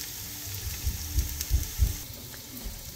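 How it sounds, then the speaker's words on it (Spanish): Onion and garlic frying in lard, a soft sizzle with a few low thumps of stirring, close and moderately quiet, no talk. "Lo primero que voy a agregar aquí es la cebolla y el ajo. Voy a dorarlos un ratitito."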